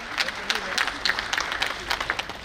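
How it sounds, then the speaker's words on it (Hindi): Applause from an audience welcoming a prize winner at a regional constitution campaign inauguration ceremony, a moderate patter of clapping with distinct claps standing out over steady room murmur. "जोरदार तालियों के साथ स्वागत करें शशि लाहोटी।"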